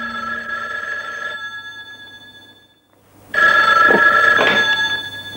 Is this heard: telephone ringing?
yes